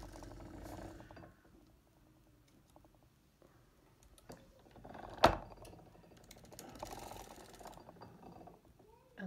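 A hand-cranked sock knitting machine turns its needles while shaping a heel, giving quiet ratcheting clicks and mechanical clatter, with a sharp louder clack near the middle and scattered softer clicks around it.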